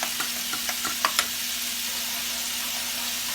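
Butter melts in a pan with a soft, steady sizzle, broken by a few light knocks and scrapes of a utensil early on, close and moderately quiet.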